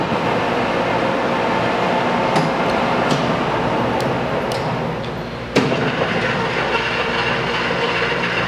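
A large Leblond 19.5 x 105 engine lathe runs at 363 RPM, giving a dense, steady mechanical rumble with faint rhythmic clatter and a few sharp clicks, heard close and continuous.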